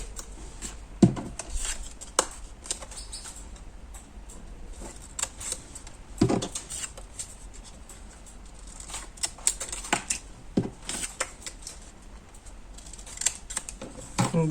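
Scissors snipping paper for 3D paper flowers, a series of faint, sharp, irregular cuts and clicks at close range with quiet pauses between them and no talking.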